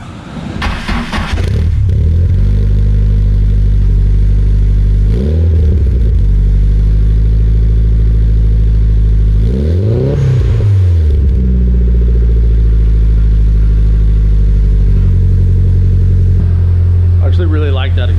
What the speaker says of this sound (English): Really like that exhaust.